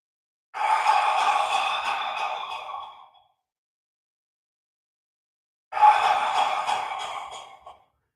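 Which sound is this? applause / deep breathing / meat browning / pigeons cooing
deep breathing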